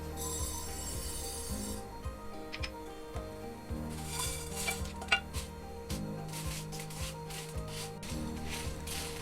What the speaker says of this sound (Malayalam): ഇപ്പോൾ പാൻ നല്ലതായിട്ട് ചൂടാക്കിയിട്ടുണ്ട്. നമുക്ക് സ്പൈസസ് ഓരോന്നായിട്ട് ഇടാം.